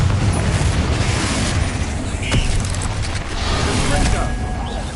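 Confringo blasting spell explosion from Hogwarts Legacy, a loud dense burst with a sharp crack near the middle over continuous game noise and rumble.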